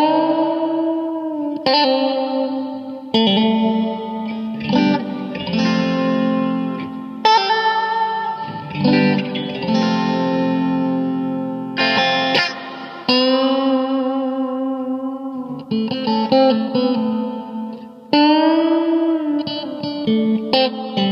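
Electric guitar played through a preset on a Yamaha THR10 amp, used for an Once Upon a Time in the West style tone: sustained, ringing melodic notes and chords with a chorus-like shimmer and echo, loud and up close, with no talking.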